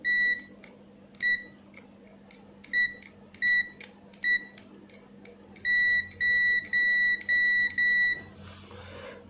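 Repeated short electronic beeps from an Aneng Q1 digital multimeter's continuity buzzer, first in separate bursts and then a run of longer steady tones, clear and close with no talking.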